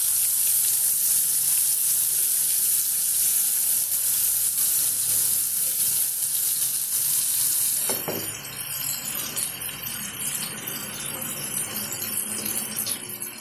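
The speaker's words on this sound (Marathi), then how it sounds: "आपण हे परतवून घेऊया" A ground peanut, green chili and garlic paste sautés in a pan for fenugreek leaf curry, with a loud bright sizzle that drops away partway through, leaving softer frying and a few stirring clinks.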